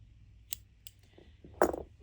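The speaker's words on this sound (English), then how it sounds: "Now basically you just pull up a loop and cut your yarn." Scissors snip through crochet yarn at the end of a granny square, a couple of faint clicks followed by one louder, close cut, with no talking.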